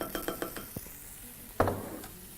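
A metal pan is set back onto the stove heat with a sharp clank, after a quick run of lighter metallic taps and scrapes from kitchenware. The sounds are close and come through clearly in a quiet room.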